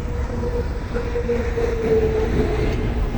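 A train crossing the Jamuna bridge in Bangladesh, heard from its roof: a steady, loud rumble of the rolling wagons with a faint tonal rail whine running through, continuous with no pauses and no voices.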